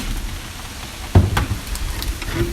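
Rain falls around an abandoned military base, a steady, hissing patter at moderate level with a sharper thud of drops or water near the middle, no voices.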